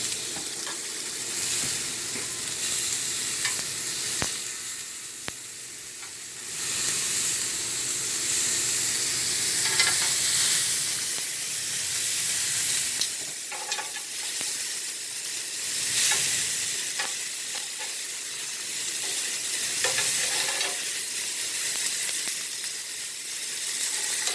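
Meat fries on a grill pan with a constant loud sizzle and hiss, swelling and fading slightly as it is moved and flipped, close by with no one talking.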